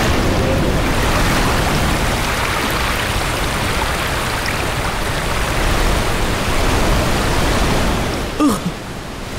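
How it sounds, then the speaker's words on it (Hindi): Floodwater rushes in a cartoon scene as a loud, steady, broadband roar, a continuous wash of pouring water throughout, with a brief disturbance near the end. "अरे ये तो पानी है। ये तो बाढ़ आ गई।"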